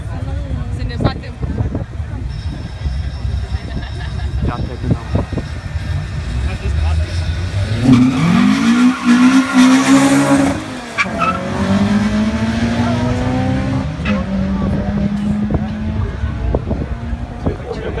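A white Toyota Supra launches at a drag race. Its engine revs and builds to a loud, rising roar with tire noise, then fades into the distance while a crowd chatters throughout.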